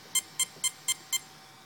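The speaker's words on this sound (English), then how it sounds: "So that's five beeps" A Mamba electronic speed controller for an RC model gives five short, evenly spaced high-pitched programming beeps, faint and clean against a quiet background.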